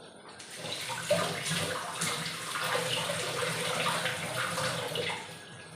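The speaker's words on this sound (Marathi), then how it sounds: "कढीपत्ता हा पाहिजेच धुवून घेते याला" Curry leaves are washed under a running tap, a steady close rush of water with light splashing and rustling that fades slightly at the end.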